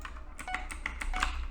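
Rapid drag-clicking on a computer mouse during a Minecraft Bed Wars match: a quick burst of sharp, close clicks and ticks in an uneven rhythm, with no talking over it.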